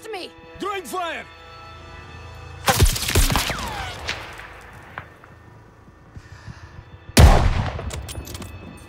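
Gunfire in Call of Duty: Vanguard, two sharp loud volleys of shots amid short bursts of talking and battlefield ambience.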